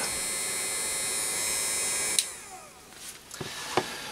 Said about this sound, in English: you can actually turn the power up for more airflow. And I found it actually to be the best heat shrink hot air gun that I've ever had.